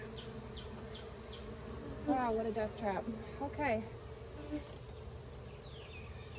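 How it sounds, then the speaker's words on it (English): Bees buzz in a steady hum around a beehive, with a few sharper passes of individual insects. A person talks briefly over the drone. "Get all the bees out. Live bees, dead bees, all bees."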